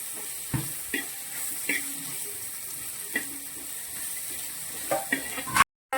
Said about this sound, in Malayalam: മസാലയായിട്ട് വഴറ്റിയെടുക്കുകയാണ്.